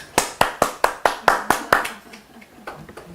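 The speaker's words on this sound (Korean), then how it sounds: "Let us clap" Hands clapping in a steady rhythm, about nine sharp claps close by that fade softer toward the end, during a spoken affirmation gathering.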